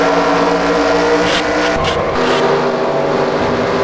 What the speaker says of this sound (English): It literally had his car go airborne coming off the wall.